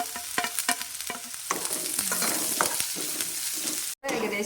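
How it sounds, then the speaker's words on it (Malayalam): Chopped green chillies fry in a hot pan, a loud, dense sizzle with stirring scrapes and a few sharp clicks, cut by a brief silence near the end. "പച്ചമുളകൊക്കെ അരിഞ്ഞിട്ട് ഇട്ട് കൊടുക്കാം."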